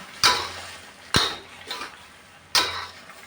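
Stir-fried chicken breast with sliced bamboo shoots and basil leaves being tossed in a pan, three sharp scraping clanks of a spatula against metal at spaced intervals, close and clear with quiet sizzling between.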